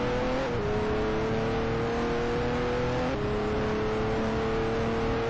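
Aston Martin racing car in the Speed Dreams driving game, a continuous loud engine whine with steady pitch and small gear-shift steps, alone with no voices.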